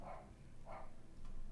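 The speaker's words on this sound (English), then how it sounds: "I'm sorry for the dog barking." A pet dog barks at passing bin men, two short bursts spaced apart over a low background rumble, fairly faint and indoors, with no talking.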